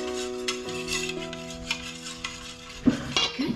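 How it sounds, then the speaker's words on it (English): Utensil scraping and clinking against a bowl while vanilla extract is stirred into peanut butter cake batter, steady quiet scraping over a background hum, with a few louder knocks near the end. "Can you stir that in? Stir it up."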